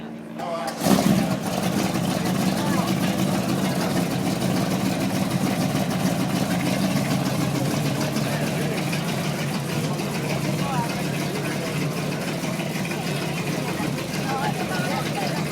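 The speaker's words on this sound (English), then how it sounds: "Move. Cars coming." TVR Griffith sports car engines at the 2011 Amelia Island Concours d'Elegance, starting with a sudden burst and then running in a steady idle rumble, with people talking nearby.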